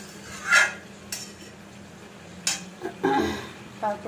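Fish curry with potatoes and cauliflower simmering in a pot as water heats over fried fish and spices, with scattered clinks and scrapes of utensils against the pot, some louder knocks near, over a low steady background.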